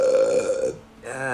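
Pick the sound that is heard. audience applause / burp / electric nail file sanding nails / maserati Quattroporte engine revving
burp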